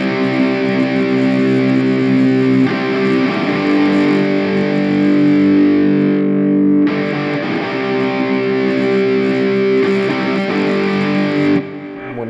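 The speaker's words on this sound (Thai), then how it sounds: "ผมขอกลับมาที่เป็นเสียงแตกก่อนลองดูนะครับ" A NUX Mighty Lite BT MKII mini amp pushes out heavily distorted electric guitar: sustained, gain-saturated chords ring loud and close for several seconds, then drop out briefly before the next ringing strum resumes with no talking.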